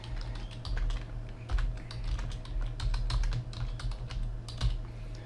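Rapid, continuous typing on a computer keyboard, close up, with dense overlapping key clicks over a low steady hum and no speech.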